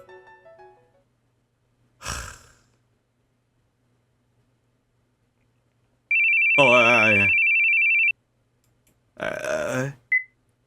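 A telephone rings in the video game Binary Heart: a single sustained electronic ring tone lasting about two seconds, with short vocal sounds from game characters before and after it.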